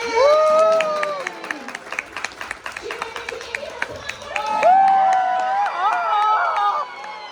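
A theme-park audience at a Universal Studios Florida horror make-up show bursts into loud applause, cheering and sharp whistles that surge, dip briefly, then swell again across several seconds.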